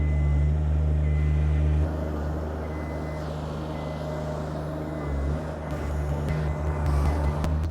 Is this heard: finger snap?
no